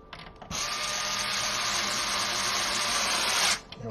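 A power screwdriver drives plastic case screws into an Xbox 360 shell with one steady, close, whirring mechanical run of about three seconds, starting and stopping abruptly.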